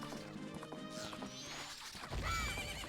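Epona, the horse in the Majora's Mask video game, gallops with quick clip-clop hoofbeats and then lets out a loud whinny, with game music playing underneath.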